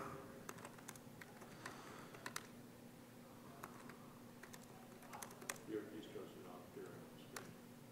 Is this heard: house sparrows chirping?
no